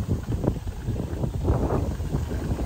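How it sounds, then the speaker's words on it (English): Steady wind buffets the microphone with continuous low rumbling gusts, no voices, just blustery outdoor noise throughout. "it's kind of windy, so this is helping me from the wind"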